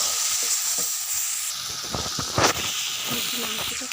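Chicken curry fries and is stirred in a pan, a steady hissing sizzle broken by scraping and tapping of the spoon, close by, with a voice briefly audible.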